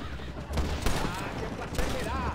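Gunfire in Red Dead Redemption sounds as a few sharp, loud shots over a busy background, with one burst near the start, another just after, and a third later on.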